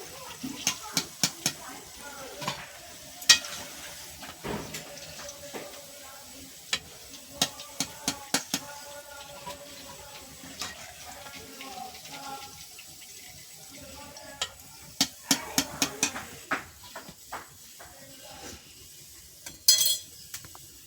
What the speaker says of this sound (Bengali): এবার এইগুলো আমি ভেজে নেবো